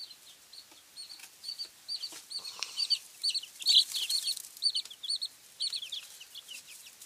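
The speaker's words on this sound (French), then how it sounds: "nous pouvons voir ici un petit poussin noir avec des taches" Young chicks in a poultry rearing pen, including black and spotted Bresse Gauloise chicks, give repeated high, thin peeps and chirps in quick overlapping bursts, fairly close and steady throughout with no talking.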